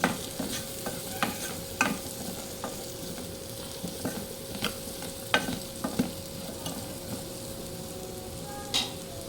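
Onions frying in oil in a pan for a prawn and egg gravy, a steady soft sizzle broken by irregular sharp scrapes and clinks of stirring, close by with no talking.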